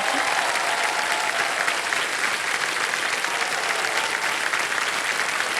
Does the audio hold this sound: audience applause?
yes